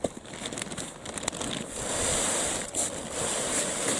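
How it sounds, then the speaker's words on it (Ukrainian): Firewood logs dragged across plastic sheeting into a yard make a steady rough rustling and scraping, loud and close, with a few sharper knocks along the way. "Покажу зараз, як тягнемо, тягнемо клейонкою."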